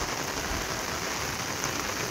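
Rain pours steadily at a seaside campsite during a storm, a dense even hiss of drops on surfaces with no pauses and no voices.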